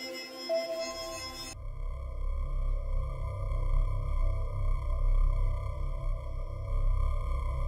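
Ambient synthesizer patch from Synthmaster in a tribute project, playing a steady sustained drone with layered tones and a low rumbling bed after a brief busier opening, moderately loud and alone.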